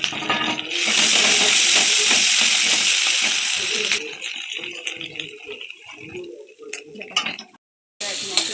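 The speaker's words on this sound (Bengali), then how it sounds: "তারপর ভাজা আলুগুলো নামিয়ে নিয়ে ওই একই তেলে গোটা গরম মশলা, তেজপাতা, একে একে বাকি মশলা এবং টমেটো সস ও চিলি সস দিয়ে ভালো করে এখানে মশলাটা কষানো হচ্ছে।" Whole garam masala, bay leaf, ground spices, tomato sauce and chili sauce fry hard in the same oil used for the potatoes, a loud steady sizzle at first that settles into softer hissing with light clinks of stirring before a brief cut-off.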